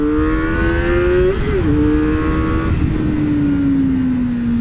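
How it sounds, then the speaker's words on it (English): A Kawasaki ZX4-R motorcycle revs at full throttle in second gear, its high-pitched inline engine note climbing steadily, briefly dipping at a shift-like break, then holding a loud, sustained whine up close. "if you want to punch it, you know, like second gear, full throttle"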